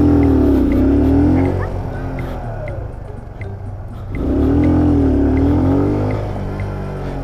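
A motorcycle engine builds revs steadily as the clutch is let out to pull away from a stop, dips in the middle, then rises again. It runs loud and close, and faint talk sits underneath.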